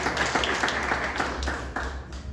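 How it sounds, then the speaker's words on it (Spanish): A church congregation claps for the Lord during a service, a busy, dense round of hand claps with sharp individual strikes, fairly close and loud, with no talk over it. "Dale un fuerte aplauso al Señor"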